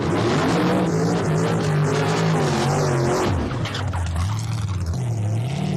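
A wheelstander pickup truck with a mock wind-up key in its bed fires up at the Atco drag strip, its engine settling into a loud, steady idle with harmonic drone and a brief rev change midway.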